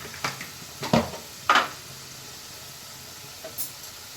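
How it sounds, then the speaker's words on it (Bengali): A spiced duck egg masala is stir-fried in a pan: a low sizzle sits under a few sharp scrapes and clinks of a spatula against the pan, spaced irregularly. "এবার আমি ভালো করে কষিয়ে নেব"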